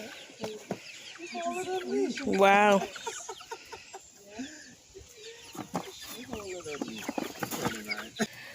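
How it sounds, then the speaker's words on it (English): Chickens on a goat farm cluck and squawk nearby in uneven bursts, one loud drawn-out call standing out, while a person speaks briefly between the calls. "Look at the chickens."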